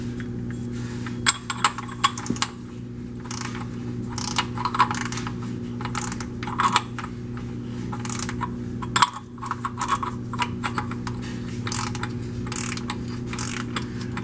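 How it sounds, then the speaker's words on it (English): A wrench ratchets an oil drain plug tight on a 2009 Scion xD, giving rapid clicking pawl ratchets in bursts over a steady low mechanical hum, close and fairly clear, with no talk. "get it with the wrench"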